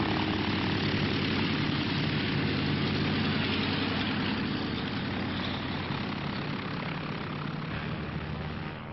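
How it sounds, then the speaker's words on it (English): Droning propeller airliner engines of a United Airlines mainliner departing from the gate in a radio drama, loud and continuous throughout, slowly easing off near the end. "United Airlines mainliner service westbound flight 617 leaving for Milwaukee, Denver, and Los Angeles. Now ready for departure from Gate 4."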